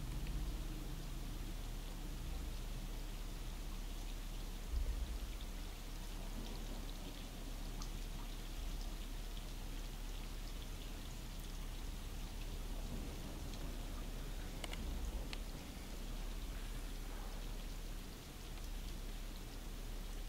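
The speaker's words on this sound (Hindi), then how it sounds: "तो अभी जो है फुल बारिश हो रही है" Steady, heavy rain in the video game Stray pours continuously with a broad hiss, and a low rumble runs underneath throughout; no voices are present.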